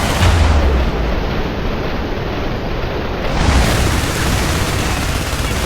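Heavy artillery fire in the video game IS Defense, a dense continuous roar of booms and blasts that fills the whole stretch, loud and unbroken, with no clear gaps between impacts.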